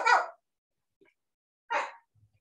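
A pet dog barks twice, two short separated barks with quiet gaps between, fairly close in an indoor home setting with faint small noises after.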